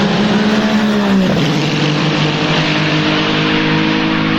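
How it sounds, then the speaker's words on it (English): A Ferrari 499P hypercar races past with a loud, continuous engine roar and the pitch sliding down, a steady close racing drone with no pauses. "their crazy good Ferrari 499P hypercar, which sounds fucking amazing"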